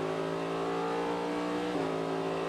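Onboard a race car at Petit Le Mans, the engine holds a steady high drone with layered tones, then dips and shifts pitch briefly as it works through traffic, loud and continuous with no talk.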